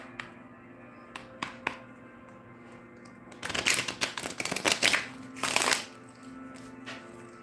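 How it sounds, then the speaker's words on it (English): A deck of tarot cards gets a butterfly shuffle, with a dense riffling flutter rising after a few light taps and then settling back into quiet room tone. "Two more of these butterfly shuffles."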